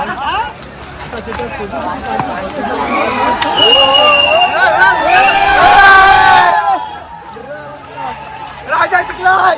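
A crowd cheers a boy who won a village race, a swelling outdoor roar of voices and shouts that peaks in the middle, with a voice speaking over it and the noise fading after.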